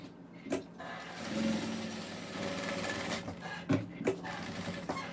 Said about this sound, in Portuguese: vou passar uma costura aqui rebatendo